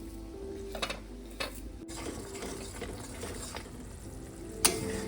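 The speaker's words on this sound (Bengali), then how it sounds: "এটাকে আমি একটু ভালো করে মিনিট 5 কষিয়ে নেবো" Spice masala for a Bengali-style katla fish chaap sautéing in a pan, with a steady low sizzle broken by a few scraping spatula strokes and one sharper clack near the end, close by with no talking.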